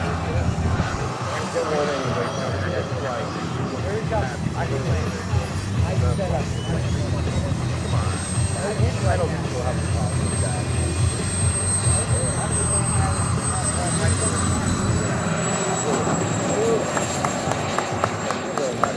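A Futura model aircraft with its landing gear down drones in on approach to land, its thin engine whine gliding slowly in pitch. A commentator speaks over it most of the time, with outdoor field noise beneath.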